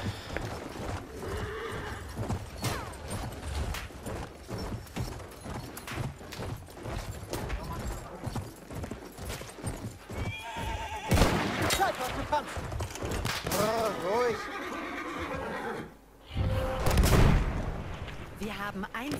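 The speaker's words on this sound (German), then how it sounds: "Ja, mit dem Schwert aber stürmt mit dem Pferd" Galloping hooves and sharp neighs from a horse in an online Battlefield 1 match, mixed with bursts of rifle and artillery fire, as players chatter over the action.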